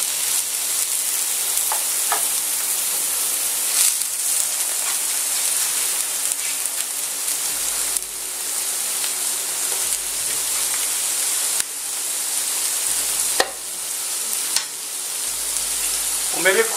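Seafood fries in a very hot pan with a constant close sizzle and crackle, steady and loud, broken by occasional scrapes and spoon stirs, with a low hum underneath.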